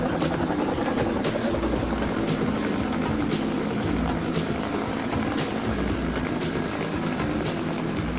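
A helicopter drones continuously, its rotor producing a steady rhythmic thrum with engine whine, loud and constant throughout, no voices.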